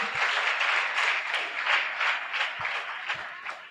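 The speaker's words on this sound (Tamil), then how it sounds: "கைத்தட்டி தேவனை மகிமைப்படுத்துவோமா?" Church congregation at a Christmas celebration applauding together in sustained, dense clapping that stays fairly loud, with a few sharper individual claps standing out near the end.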